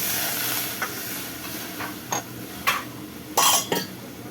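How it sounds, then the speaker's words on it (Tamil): A metal pan kadai clanks down with a few light knocks, then a short splash and gurgle of water being poured in, each sound brief and close. "ஒரு பேன் கடாய், ஒரு கப்பு தண்ணி ஊற்றிக்கலாம்."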